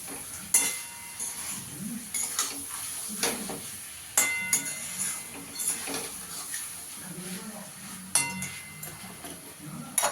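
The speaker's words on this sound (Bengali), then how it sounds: "মাছটা দিয়েও ভালো করে একটু মিশিয়ে নেব।" Pieces of fried rui fish stirred and mixed in a pan of spiced gravy, a soft sizzle under intermittent scraping and clinks of a spatula against the pan, fairly quiet and close.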